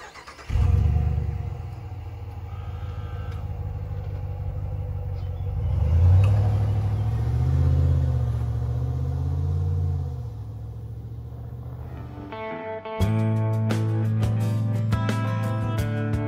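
A RAM 1500 Laramie Night Edition pickup with a 5.7-liter HEMI V8 drives on the road, its low engine rumble steady inside the cab and swelling briefly as it pulls. Near the end a brighter tonal sound cuts in over the drone.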